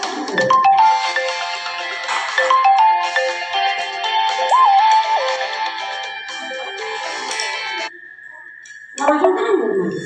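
A melodic phone ringtone plays loud and close for about eight seconds of an incoming call, then stops as a voice speaks briefly.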